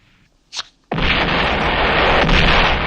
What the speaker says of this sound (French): I heard this large explosion